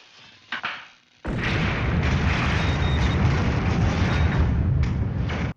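A starship explodes in an episode of Star Trek: The Original Series. A short rumble gives way to a sudden, loud, sustained roaring blast that fills the scene and then cuts off abruptly.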